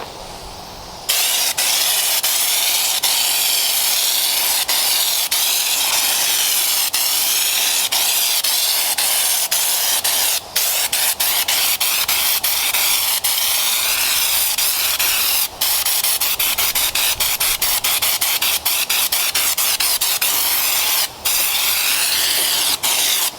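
Spray gun shooting black Raptor bedliner onto the underside of a foam skull tombstone, a loud continuous hissing spray broken by a few brief pauses.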